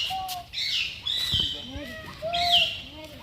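An Asian koel calls from an enclosure at Sambalpur Zoo, its loud rising whistles repeating twice over a few seconds, close by, with someone talking quietly between the calls.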